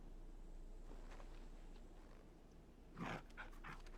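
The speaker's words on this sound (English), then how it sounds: "You're just a big puppy, aren't you? A very big puppy." A large dog-like creature in Final Fantasy XVI pants and pads around quietly at close range, with a brief louder burst of movement or snuffling near the end and no talking.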